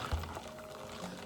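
Coffee is poured over ice into a cup beside a kitchen sink, a quiet, brief liquid stream with faint trickling and light clinks, heard close and soft with no talking.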